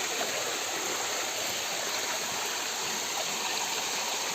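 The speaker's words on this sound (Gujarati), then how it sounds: "ઉપર ધોધ છે." Gira waterfall on the Gira river roars as a continuous broadband rush of falling water, steady and enveloping with no pauses or voices.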